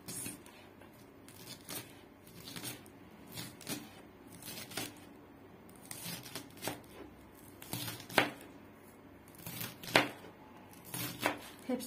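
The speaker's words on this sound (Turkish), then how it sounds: "Şimdi soğanımı doğrayacağım." An onion being chopped with a knife, heard as a series of sharp, close blade taps on a cutting board, irregularly spaced, with a few louder strokes near the end and no talking.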